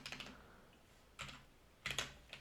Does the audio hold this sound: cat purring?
no